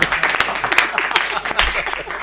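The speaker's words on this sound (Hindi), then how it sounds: "जोरदार तालियां बजाकर आमंत्रित करिए" An audience at a Hindi poetry recital applauds for the poet Anil Agrawanshi. The clapping is a short, dense burst of many hands, with a voice faintly audible underneath.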